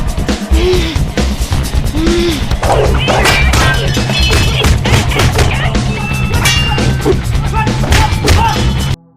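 A martial arts fight scene with blows from a wooden staff against men armed with blades: rapid, dense thuds and whacks land in quick succession over a busy soundtrack, with occasional grunts and gasps.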